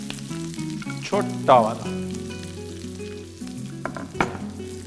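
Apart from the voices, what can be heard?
curry leaves and onion frying in hot oil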